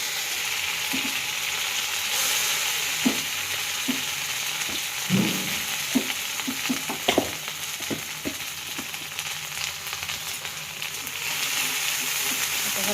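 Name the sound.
frying roasted coconut, onion and garlic paste in iron pan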